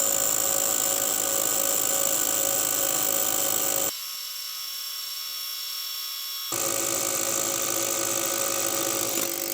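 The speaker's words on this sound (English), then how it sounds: "we're going to drill head-to-head with our Gen 1 of our 1 9/16 and our Gen 2 of the 1 9/16" Two Milwaukee cordless 1 9/16 inch rotary hammers, a Gen 1 and a Gen 2, drilling head-to-head with a loud, steady hammering drone. The noise cuts out abruptly for a few seconds midway, then resumes at full strength.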